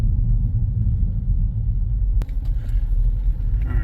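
Ford EcoBoost truck with harsh shifting and a suspected intermittent shift solenoid fault, driving down a road: steady low road rumble and engine drone from inside the cab, with a faint knock partway through.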